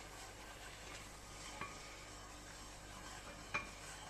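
Flour being stirred into melted fat in a pan to make a roux for vegan gravy, a steady soft scraping and faint sizzle with two brief utensil taps, quiet and close with no talk.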